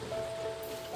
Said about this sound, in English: Enjoy the rain!